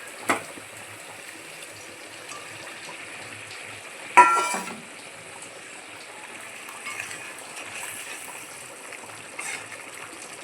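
Bombay duck fish fries in a pan with chili powder, salt and turmeric, giving a steady soft sizzle throughout, broken by a few louder clatters near the start and middle, with no talking.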